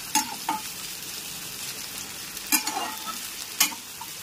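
Three sliced onions frying over a medium gas flame for chicken korma crackle in a steady sizzle, punctuated by a handful of loud spatula stirs and scrapes, with no one speaking.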